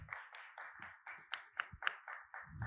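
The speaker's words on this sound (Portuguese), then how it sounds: "Uma salva de palmas para ele." A small group at a panel on animation claps sparsely for a guest joining the table, with uneven individual hand claps close to the microphone and fairly quiet.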